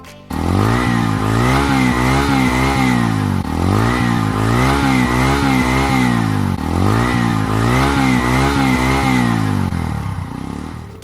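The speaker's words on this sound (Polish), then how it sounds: "Posłuchajcie jeszcze dźwięku silnika, zobaczcie jak to moto brzmi." A motorcycle engine revs loudly and repeatedly, climbing and dropping in three sweeping cycles before easing off at the end.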